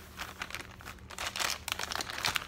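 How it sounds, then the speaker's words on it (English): Crinkling and tearing noises up close, with tape being pulled off mail packaging and rustled in uneven bursts. "Let's pull off some more tape."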